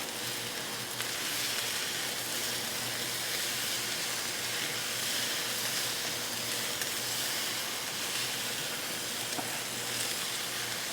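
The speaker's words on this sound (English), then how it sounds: "we're going in with our strips of pork, our cubed sweet peppers, and pineapple strips. Give that a mix." Pork strips, cubed sweet peppers and pineapple strips stir-frying in a pan give a steady, dense sizzle and hiss that holds evenly throughout, with no talking.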